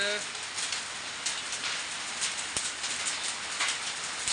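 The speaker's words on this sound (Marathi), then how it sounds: "जोरदार गारपिडीचा पाऊस सुरू आहे" Heavy rain roars in a dense, constant hiss in an evening storm with hail and strong wind in Bhoom, Dharashiv, Maharashtra, with scattered sharper impacts of hailstones striking hard surfaces nearby.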